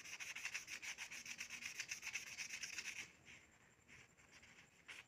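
Sandpaper rubbed over a metal sewing machine presser foot lifter part in quick, regular back-and-forth strokes for about three seconds, then softer, slower scrapes, faint and close with no voices.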